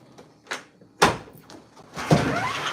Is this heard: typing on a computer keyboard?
no